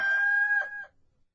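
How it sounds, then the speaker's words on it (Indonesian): A rooster gives a single short, bright crow lasting under a second, clear and moderately close against a quiet background. "ketika itu berkokoklah ayam"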